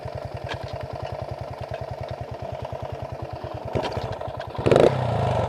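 Dirt bike engine idling with a rapid, even low-pitched putter, then revving up in a couple of louder throttle bursts toward the end, heard close by.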